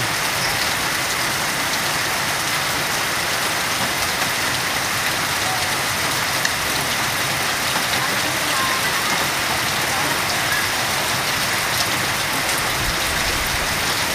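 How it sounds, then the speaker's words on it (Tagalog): Heavy typhoon rain in the Philippines pours down steadily, a dense unbroken hiss of water falling hard on surfaces that continues throughout without pause. "Pasang ulan."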